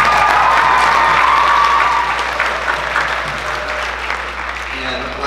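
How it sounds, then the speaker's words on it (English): Audience applause at a school combined bands winter concert, a dense wash of clapping that starts loud and tapers slightly while staying steady throughout, with no voices rising above it. "So extra claps for them"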